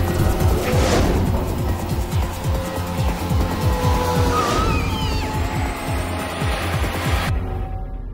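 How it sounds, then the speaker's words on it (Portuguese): A car pulls away loudly and close, its engine roaring and tires squealing over a continuous rumble that runs several seconds before cutting off abruptly. "Vai sair o carro"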